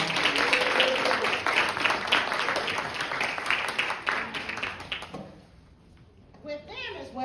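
A crowd at a youth cycling awards night applauds with dense, steady clapping, cheers and voices mixed in. The clapping fades after about five seconds, leaving quieter chatter.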